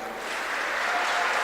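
Students from Emirates National School, Sharjah, cheer and applaud as a dense, steady wash of clapping during an interaction session with Dr. Shashi Tharoor, holding at an even level for the whole brief stretch.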